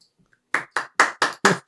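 Six sharp hand claps, evenly spaced and close, ring out after a brief quiet pause.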